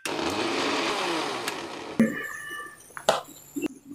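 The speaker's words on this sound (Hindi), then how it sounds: "अब इसे ग्राइंड कर लेंगे।" A kitchen blender loudly grinds watermelon, mint, lemon and a little sugar for about two seconds as one steady, rough whir. It then cuts off, leaving a few light clinks and handling noises.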